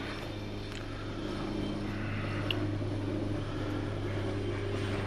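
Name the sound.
helicopter flying overhead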